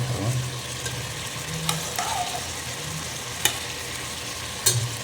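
Mutton lung pieces, cut medium-sized, sizzling and frying in a pan with steady bubbling, a few sharp clinks and stirring scrapes rising above the continuous crackle, fairly close and moderately loud, no talking.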